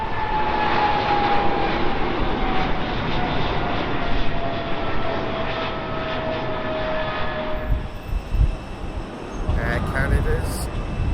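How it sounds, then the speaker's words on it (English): An EgyptAir Boeing 777-300 jet airliner bound for Cairo roars steadily at an airport, with a faint descending engine whine. Near the end the roar thins and a voice speaks. "Egypt Airs, 777-300 on its way to Cairo."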